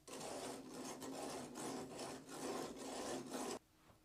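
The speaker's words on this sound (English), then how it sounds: "Strike off excess concrete with the strike-off bar." A steel strike-off bar scrapes excess fresh concrete off the rim of a roller air-meter bowl, giving a loud, continuous gritty rasp in repeated strokes for about three and a half seconds, then stopping abruptly.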